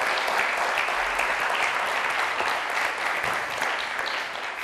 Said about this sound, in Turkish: Alkışı duyalım.